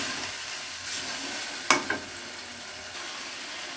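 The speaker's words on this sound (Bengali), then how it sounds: "এই মাংসগুলো কিছুক্ষণ নাড়াচাড়া করে নেব।" Pieces of meat fried and stirred in a pan produce a continuous hiss of sizzling, broken by a couple of sharp scraping clanks from the stirring utensil; no one speaks.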